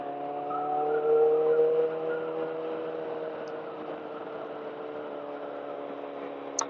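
Motorcycle engine droning steadily as the bike leans through a quick right-left turn, a loud constant hum with a brief rise in intensity early on, a faint tick near the end.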